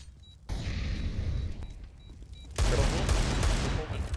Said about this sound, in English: I'm deploying flashbang.